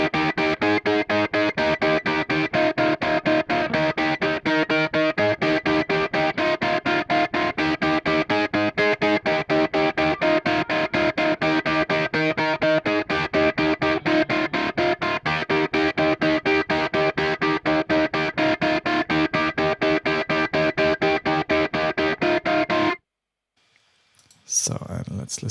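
Electric guitars play a driving eighth-note rhythm in a song section, a dense, steady pulse of strummed chords with effects that runs loud and unbroken before cutting off abruptly near the end.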